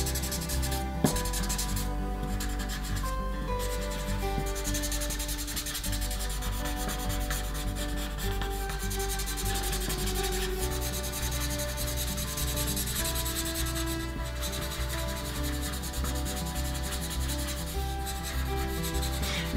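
A paper blending stump rubs a pencil sketch with quick, firm strokes, making a continuous close scratchy rubbing that runs without pause and with no voices.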